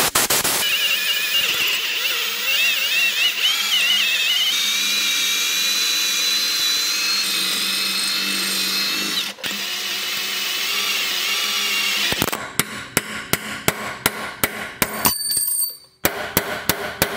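A power drill works around a stuck lug nut on a wheel, drilling it out with a loud, continuous whining grind, then a rapid run of sharp metallic bursts and clanks toward the end.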